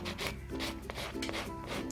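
A buffing block rubs quickly back and forth across a natural fingernail, producing close, rhythmic rasping strokes about four times per second, with no talking.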